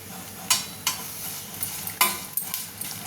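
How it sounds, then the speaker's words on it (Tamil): Curry leaves are dry-roasted in a pan without oil, stirred in several quick scraping strokes at an uneven rhythm, each with a crisp rustling rasp over a faint background hiss, with no talking. "இந்த மாதிரி ஒரு பேனில் எண்ணெய் எதுவும் சேர்க்காம அப்படியே ரோஸ்ட் பண்ணி விட்டுருங்க"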